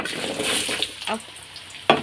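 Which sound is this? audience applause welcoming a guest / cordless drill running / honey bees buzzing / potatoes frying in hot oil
potatoes frying in hot oil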